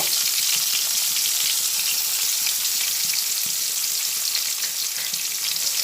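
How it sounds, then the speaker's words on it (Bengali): Onion, garlic and ginger fry in hot oil for a green jackfruit korma, giving a dense, even sizzle that holds steady and close with no talk over it. "এগুলো ভাজা হতে হতেই এর মধ্যে কিছুটা পরিমাণে আদা দিয়ে দিলাম"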